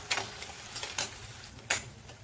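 Chopped onion fries in a pan with oil and salt, a faint low sizzle broken by a few sharp scraping strokes of a spatula stirring, no voices.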